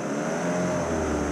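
A boat outboard motor drones steadily and close, a continuous mechanical hum with no speech, on a river trip heading into forest.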